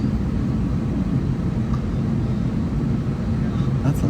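A jet airliner powering up for takeoff at Atlanta airport, heard from inside a cabin as a steady, loud, low rumbling roar that holds evenly throughout.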